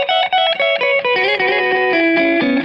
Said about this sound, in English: if I turn up the mix knob, you guys can hear, there's more of the wet signal now